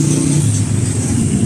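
An owner-type jeep engine runs and revs loudly up close, a steady mid-pitched mechanical roar with no talk over it.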